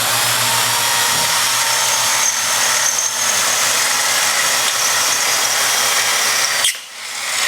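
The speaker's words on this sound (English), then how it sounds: "We're going to go ahead and drill out the holes now between the storm bar clips and the storm bar." A power drill bores holes for storm bar clips through a 1x2 aluminum tube during colonial shutter installation, a loud continuous close whine held for about seven seconds before stopping abruptly.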